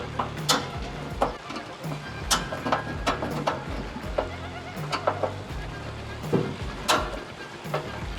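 Screws are backed out of a Z Grills pellet grill with a ratcheting tool, giving a string of irregular clicks and clinks close by, with no talk.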